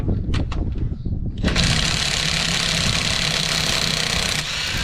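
A Parkside cordless drill driver unscrews nuts while car suspension struts are taken apart: a few close clicks and clatters, then a loud, steady motor whir that runs for about three seconds before easing off.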